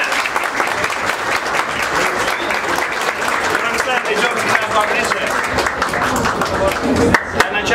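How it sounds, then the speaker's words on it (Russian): Sustained crowd applause for a birthday girl at a celebration in the Sofia restaurant, dense steady clapping filling the room for the whole stretch, with a few louder claps near the end and some voices mixed in. "Давайте похлопаем наши именинницы"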